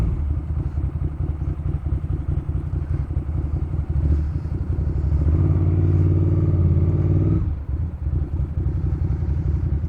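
A Ducati Monster S4 motorcycle engine runs close by on a cold day, with a loud, steady rumbling idle that swells briefly as it revs and then settles back, and no talking.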